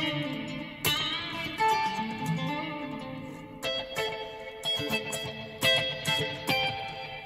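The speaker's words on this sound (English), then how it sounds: "There's a echo, which is more like a sort of slap back." Guitar picked through a Big Top Juggler reverb pedal set to slapback echo, distorted notes and chords each followed by a quick short repeat, moderately loud with no voices.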